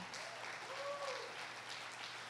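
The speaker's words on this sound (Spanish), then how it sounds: "Dale fuerte ese aplauso al Señor, con ganas" A church congregation claps together at a family worship service, a dense steady wash of applause filling the whole stretch, with a faint voice rising briefly in the middle.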